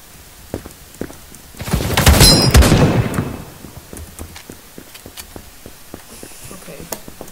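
Rapid burst of shotgun blasts in the online shooter Krunker, a dense cluster of loud cracks peaking mid-clip then trailing into scattered distant shots and clicks.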